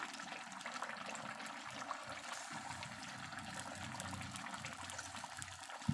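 Boiling hot water is poured into a pan of browned desi duck curry, making a steady, close rushing pour that runs unbroken for about six seconds with no talking.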